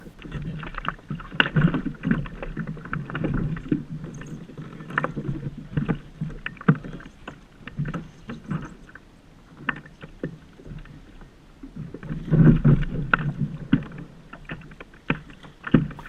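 A fishing kayak sits on a lake, with irregular paddle splashes, water sloshing against the hull and hollow thumps as weight shifts aboard, close and uneven, with light wind buffeting the microphone.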